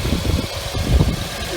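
A 2.4-liter four-cylinder Toyota engine in a Scion xB with about 210,000 miles idles steadily just after starting, a low continuous rumble heard close by with no talking.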